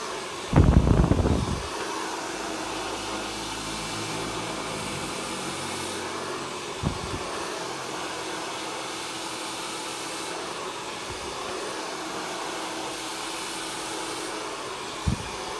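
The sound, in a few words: hair dryer blow-drying hair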